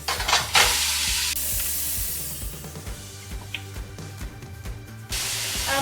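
A pot roast sears in a hot pan after being flipped, giving a broad hissing sizzle with scraping and clattering from handling, loud at first and then steady and close.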